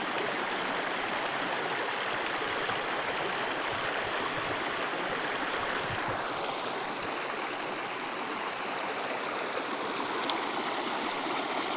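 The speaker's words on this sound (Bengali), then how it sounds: "এখানে খালি জলের শব্দ।" The Jayanti River rushes in a steady, full roar at dusk, between hills and forest, constant and enveloping, with no voices.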